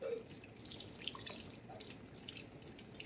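Hot boiled potatoes are drained from a pot into a kitchen sink, with a soft continuous rush of water and scattered drips and splashes, faint and close.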